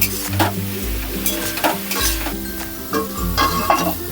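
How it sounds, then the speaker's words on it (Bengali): Taro pieces coated with turmeric fry in a pan, giving a continuous close sizzle broken by repeated scraping stirs and light clinks of the utensil against the metal. "মিডিয়ামে দিয়ে আমি খুব ভালো করে আরও লাল করে ভেজে নেব।"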